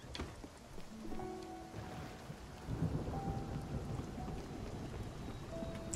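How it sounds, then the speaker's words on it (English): Thunderstorm in the video game Spiritfarer: steady rain and rolling thunder, with a deeper rumble swelling midway, plus a few faint musical tones over the storm. "A storm!"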